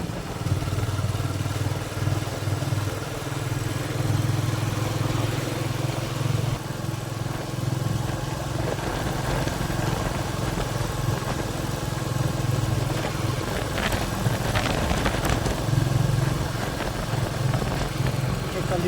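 A motorcycle rides along a winding Konkan road, its steady engine drone and wind rumble continuous and close throughout, with no clear speech.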